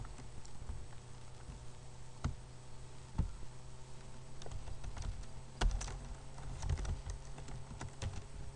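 Keys clatter on a computer keyboard while HTML is typed in, in irregular bursts of close, soft clicks with a few sharper strikes, no talk over them.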